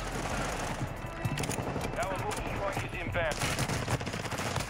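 Rapid hip-fired MP5 submachine gun bursts in a first-person shooter video game, sustained loud chatter of automatic fire mixed with other game effects and voices.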